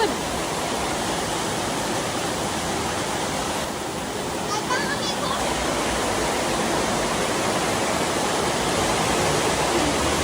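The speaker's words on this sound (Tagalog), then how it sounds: "Ulan na po." Steady, dense hiss of heavy rain pouring without a break, a broadband wash that stays loud and even throughout.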